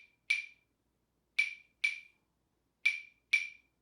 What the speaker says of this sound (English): this instrument is called clave, and it also is a striking instrument, a percussion instrument